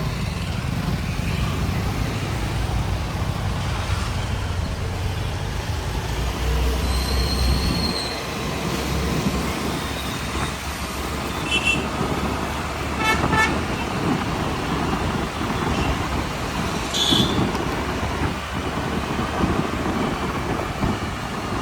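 Heavy road traffic in Magarpatta City, Pune: a constant close rumble of engines and tyres, broken by a few brief horn toots.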